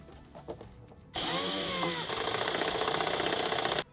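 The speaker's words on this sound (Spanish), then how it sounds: "Con la ayuda de un tornillo autorroscante pondremos las" A self-tapping screw is power-driven into the steel chassis of a 2016 FIAT Talento van to fix the ground wires, a loud steady whine of the drill running about three seconds without pause after a quiet start.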